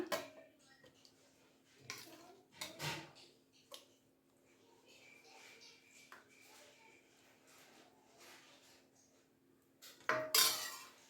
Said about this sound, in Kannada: ಈಗ ಬಿಸಿಬೇಳೆ ಬಾತ್ನ ಪ್ಲೇಟಿಗೆ ಹಾಕ್ಕೊಬಿಡೋಣ